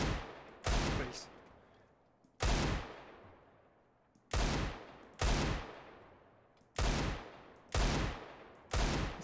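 Desert Eagle pistol fired in a video game: six loud, sharp shots spaced roughly two seconds apart, each with a long echoing tail fading before the next, with no talking.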